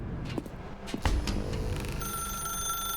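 In The Stanley Parable Ultra Deluxe, a telephone starts ringing after a few soft knocks and thuds, its bright bell tone steady and clear for the last second with no voices over it.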